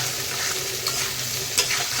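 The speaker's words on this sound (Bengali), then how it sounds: "আলুটা অনেকটা ভাজা হয়ে গেছে।" Potatoes fry in a pan with salt and turmeric while being stirred, a close continuous sizzle with scraping utensil strokes and a couple of sharper clinks.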